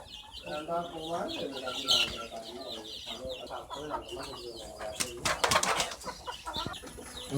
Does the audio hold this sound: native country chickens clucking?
yes